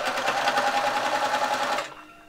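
A sewing machine stitches fabric for a surgical protective cover, a fast, even rhythmic whirring run close by that stops abruptly near the end.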